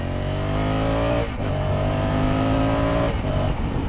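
A 2020 Honda Africa Twin CRF1100 motorcycle accelerates hard, its engine roaring loud and close with a rising pitch, a brief dip at a gear change and then climbing again, with no talking.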